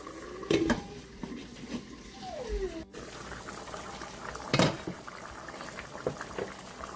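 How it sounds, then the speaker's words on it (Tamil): Veg chili simmering in a home kitchen pot, a low continuous bubbling and hiss with a few sharper clinks and scrapes of utensils against the pan, no talking. "இன்னும் கொஞ்ச நேரம் கொதிக்கட்டும்."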